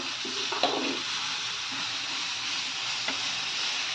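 Onions and tomatoes sizzle steadily in a hot pan for noodles, a close, even hiss with a couple of faint stirring clinks and no talking.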